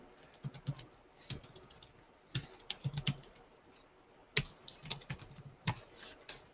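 Typing on a computer keyboard gives irregular bursts of sharp, close key clicks, with short pauses between the flurries and no talking.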